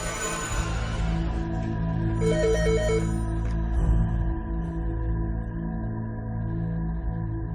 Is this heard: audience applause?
no